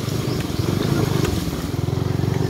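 A motorcycle engine drones close by with a steady pulsing throb as it rides through floodwater, loud and continuous throughout.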